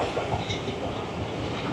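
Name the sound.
Rawal Express passenger train running on rails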